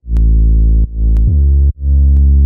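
A loud, bass-heavy synth tone, a sine wave layered under a saw wave, plays sustained notes with a buzzy harmonic edge, changing pitch twice with brief dips between them.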